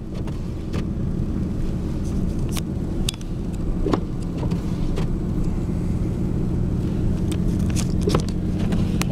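A truck in four-wheel drive pushes through snow during a snowstorm, a steady low engine and road rumble from inside the cab with occasional knocks and thumps.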